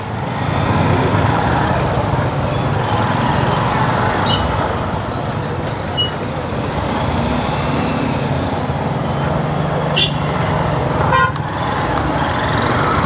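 Busy Kathmandu street traffic with a dense stream of motorcycles and cars, a steady loud roadway rumble throughout, with short horn toots breaking through near the middle and later.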